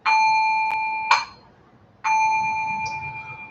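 A small ritual bell struck twice during a Buddhist evening service, each strike a clear, bright ring that decays slowly, with a brief quiet gap between them.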